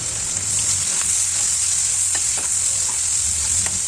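Onion and green chillies fry in oil for egg dum biryani, a loud steady hiss of sizzling close up, with light stirring scrapes scattered through it.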